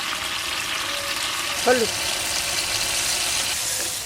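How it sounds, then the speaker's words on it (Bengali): Chili, cumin, coriander and salt sautéing together in a hot pan give off a steady, broad sizzle throughout, with a single short spoken word partway through. "এবার সুন্দর করে কষাই নেব মশলাটা"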